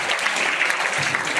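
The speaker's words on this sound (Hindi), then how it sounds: "ताली लगाओ इसके लिए।" Schoolchildren at a health workshop applauding a classmate, with steady, dense clapping from a group throughout and no talk over it.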